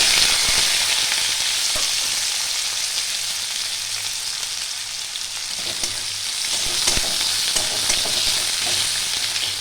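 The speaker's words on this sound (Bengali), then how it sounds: "পেঁয়াজটা আমি হালকা করে ভেজে নেব" Chopped medium onion fries in oil with panch phoron and a dried chilli, a steady bright sizzle with occasional stirring scrapes, close and continuous throughout.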